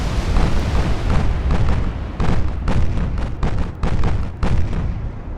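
Battleship secondary guns in Ultimate Admiral: Dreadnoughts firing a heavy rolling barrage, loud booming reports in rapid irregular succession, overlapping blasts over a constant low rumble.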